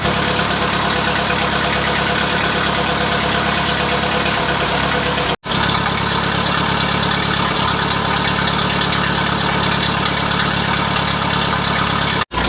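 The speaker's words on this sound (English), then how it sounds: "it is putting here and there, but I'm pretty sure it's just the tractor naturally trying to break down that super thick treatment" An old tractor engine idling after an oil treatment and sealant were added, loud and close with a steady rumbling chug and slight uneven sputters, cutting out briefly twice, no talking.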